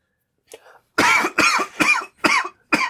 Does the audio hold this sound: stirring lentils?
no